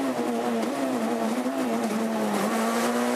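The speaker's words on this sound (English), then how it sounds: "Little nip on the handbrake there into what was quite a long open hairpin, but just balancing the car beautifully" Onboard a rally car on Rallye Monte Carlo stages, the engine drones loudly and steadily through a long open hairpin, its pitch dipping and rising slightly under handbrake and throttle.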